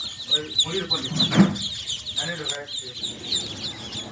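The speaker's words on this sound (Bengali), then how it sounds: "এই পিকিং স্টার তেরো জাতের হাঁসের বাচ্চাগুলো অতি দ্রুত বর্ধনশীল" Peking Star 13 ducklings give repeated high, thin peeps and chirps in a steady flurry nearby, with a voice briefly audible underneath.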